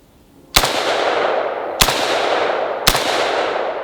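Three loud, close AK rifle shots fired with iron sights, each a sharp crack trailed by a long ringing decay, spaced about a second apart after a quiet start.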